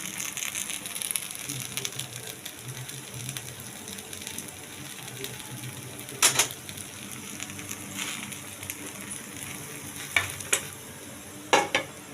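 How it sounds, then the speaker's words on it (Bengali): An oats dosa crisping in a pan produces a steady, moderately close sizzle, broken by a few sharp scraping clicks from a spatula near the middle and end, with no voices. "ওই দিকটাও আমি একটু ভালো করে ভাজা ভাজা করবো"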